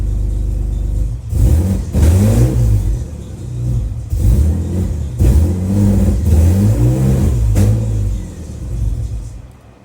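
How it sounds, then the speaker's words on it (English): An LS V8 swapped into a BMW E46 coupe rumbles at idle, then revs up and drops back in several loud, close throttle blips spread evenly over about ten seconds. "Now, if I hit the throttle,"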